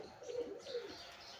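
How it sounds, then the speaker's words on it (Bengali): Local domestic pigeons give a couple of soft, low coos, faint and a little distant against a quiet outdoor background. "আর কিছু কবুতর আছে আমার বাইরে, এগুলো দেশি।"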